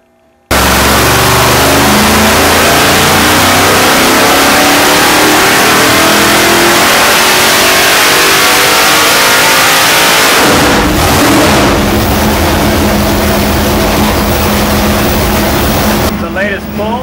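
A Nelson Racing Warrior 632 V8, a roughly 600-cubic-inch pump-gas engine on 91 octane, roars loudly on a dyno pull, its pitch climbing steadily before cutting off abruptly and settling into a lower, rougher rumble.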